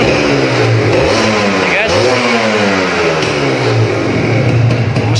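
A Kawasaki Ninja RR motorcycle engine revs loudly and close, its pitch swooping up and down through repeated throttle blips before settling into a buzzing idle.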